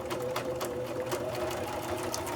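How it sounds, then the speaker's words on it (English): A sewing machine stitches slowly through plastic, its needle thumping in a quick, even rhythm over a steady motor hum, close and clear. "Stitch slowly through this plastic,"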